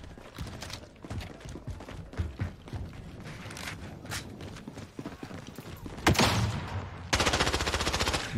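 In Call of Duty Modern Warfare, a deployed manual turret fires rapid bursts, loud clattering gunfire mixed with other battle noise, ending in a dense, continuous stream of shots.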